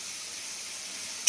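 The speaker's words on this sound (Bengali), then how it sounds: "এবার এটা ভেজে নিই পেঁয়াজটা ভালো করে" Onions frying in a pan with turmeric and bay leaf give a steady, soft sizzling hiss that runs evenly and close, then swells into a sharper spitting burst at the very end.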